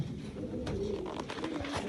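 Soft, low pigeon cooing repeats through a short stretch, close by, over a steady background hum with faint rustling.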